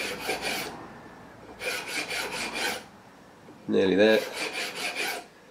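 A carbon brush from a variac is filed down by hand in three bursts of rhythmic rasping strokes separated by short pauses, close and clear, with a brief spoken remark in the last burst.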